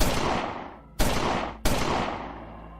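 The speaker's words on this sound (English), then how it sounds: "as he heard 3 gunshots" Three loud gunshots in quick succession, each a sharp broadband blast with a long decaying tail; the second follows about a second after the first and the third shortly after that, with no talking.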